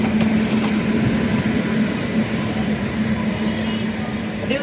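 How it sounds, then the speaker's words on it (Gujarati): A train rolls through a station in Gujarat on the way to Veraval, giving a dense, continuous roar of wheels and carriages with a steady hum throughout, loud and near. "આપણી ટ્રેન આવી ગઈ છે"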